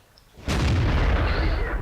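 A T-44 tank cannon fires in World of Tanks, one sudden loud boom that cuts in mid-clip and rolls on as a heavy rumbling tail with no voices.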